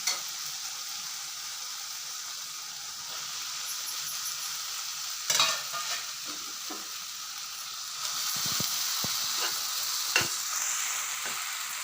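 Tomato and shelled green peas frying in a pan for a potato and pea milk kootu, a steady close sizzle broken by occasional scraping stirs and clinks of a spoon, with no talking.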